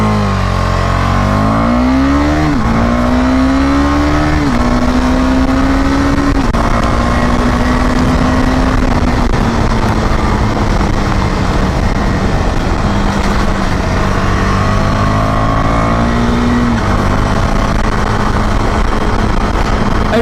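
A Husqvarna Svartpilen 250 motorcycle accelerating on the road in first gear and up through the gears, its loud, close engine revving, dropping at each shift and climbing again over constant wind rush.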